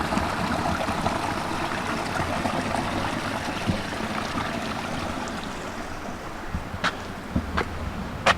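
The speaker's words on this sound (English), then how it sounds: "This is the Virgin River through the canyon." The Virgin River flows through a red-rock canyon in Zion National Park with a steady, soft rush of moving water. A few brief louder knocks or taps cut through near the end.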